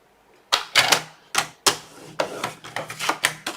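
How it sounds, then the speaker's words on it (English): Paper being scored on a scoring board for a folio card: a series of sharp, close clicks and scrapes in irregular bursts, about a dozen strokes, with no talk. "Score on the long side at 1/2 inch."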